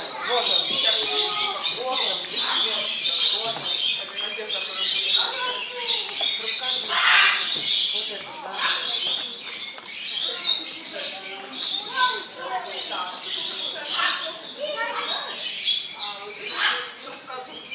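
Lovebirds sitting in a row in zoo cages, a busy chorus of shrill chirps and squawks chattering continuously and close, with some talk mixed in.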